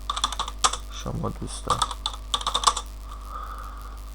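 Quick bursts of clicks from a computer keyboard run in uneven runs while a voice speaks briefly in between.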